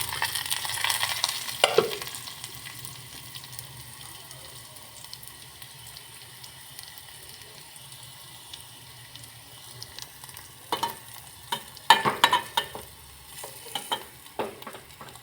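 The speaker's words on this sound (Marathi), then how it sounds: "सारण हे आपलं तेलामध्ये चांगलं फ्राय झालेलं आहे" A mixture of garlic, green chilli and crushed peanuts frying in oil for a village-style garagata dish, a quiet steady sizzle broken by spatula scrapes and clatters, busier toward the end.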